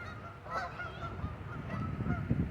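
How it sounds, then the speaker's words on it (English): Several geese honk at a park near water, a few scattered calls ringing out fairly close over a rustling outdoor background. "look at these geese."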